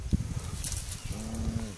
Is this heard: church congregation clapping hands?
no